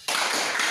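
A school class claps together in a tepuk konsentrasi clapping chant. A sudden, dense burst of many hands starts abruptly and stays loud and close to the end.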